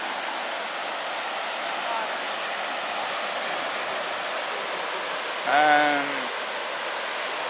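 Rushing floodwater pouring over ATV trails, a steady, broad roar that fills the whole clip, with a brief voice heard over it.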